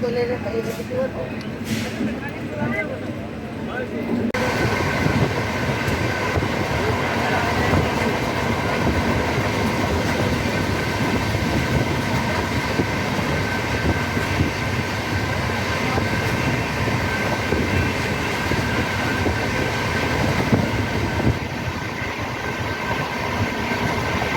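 The Howrah Jodhpur Express running on the line, a loud continuous rumble and rattle of carriages heard from inside, with a brief quieter stretch before the full roar sets in.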